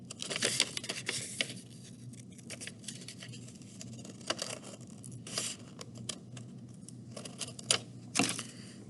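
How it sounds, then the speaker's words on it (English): Scissors snip through fabric while paw shapes are cut out for a sewing project, giving a run of short, close crisp cuts and rustles with small pauses between them. "I'm actually just going to cut one out and I'm going to cut two of that same paw."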